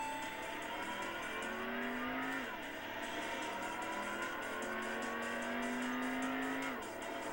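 Toyota AE86 driven on a highway in a racing video game, its engine droning steadily with rising and falling revs and occasional tire squeal, loud and continuous with no talking.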